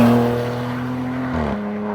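A Ram RHO pickup truck's engine holds a steady, buzzing drone heard from the cabin, then drops in pitch near the end as the revs fall.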